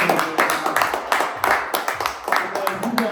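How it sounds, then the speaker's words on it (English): Audience clapping in rhythmic bursts, fairly loud and close, with voices mixed in underneath the claps throughout. "if you four could clap for the audience"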